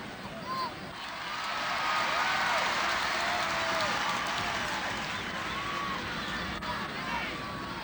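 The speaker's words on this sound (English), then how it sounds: "A great cheer went up around Fitzgerald Stadium as Jacko went back into the fray" Crowd at a 1991 Munster Football Final between Kerry and Limerick at Fitzgerald Stadium, a broad sustained roar of cheering swelling and holding across the stand, with whistles and shouts in the mass, heard from a distance.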